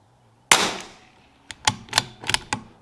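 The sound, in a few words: five .22LR rifle shots with Lapua Center X ammo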